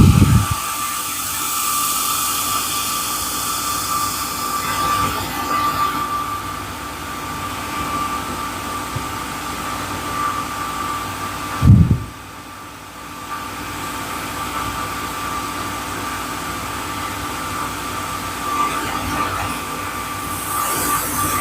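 A 20 watt laser cuts 15 mm poplar with a loud, steady whirring hiss that runs almost the whole time, broken by one brief dip just after the middle, and no voices.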